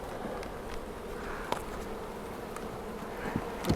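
Bees from a wild-caught colony buzz in a steady low hum around an open hive, close and continuous, with a few faint taps and handling sounds scattered through.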